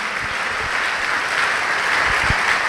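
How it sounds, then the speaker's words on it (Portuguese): A church congregation applauds during an evangelical sermon, a dense, steady wash of many hands clapping that holds at an even, fairly loud level throughout, with no speech over it. "Vamos aplaudir a Jesus por isso."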